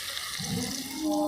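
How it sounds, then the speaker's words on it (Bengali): Water pouring into a pot of browned mutton curry with new potatoes, a steady running splash that brightens and strengthens toward the end, with no voices. "যাতে মাংসটি সুন্দরভাবে সেদ্ধ হয়, তার জন্য এর সঙ্গে একটু জল দিয়ে"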